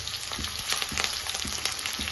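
Green chillies, onions and curry leaves fry in hot oil for a Telugu brinjal curry, a steady loud sizzle with a few soft knocks of a spoon against the pan, no voices.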